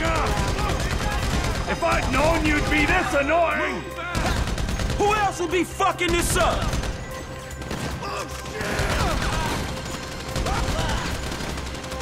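Gunfire in Grand Theft Auto V during a mission shootout, bursts of automatic fire and heavy shots crackling in clusters, with a voice shouting over the shooting and brief pauses between volleys.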